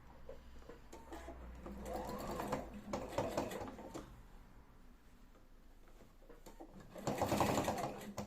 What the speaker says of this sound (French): On coud à travers ces épaisseurs.